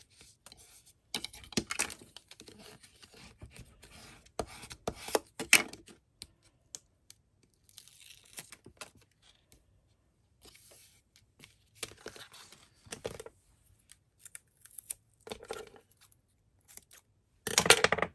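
Scissors cutting pieces of card, a series of irregular crisp snips and papery rustles, close and fairly quiet, with gaps of silence between bursts.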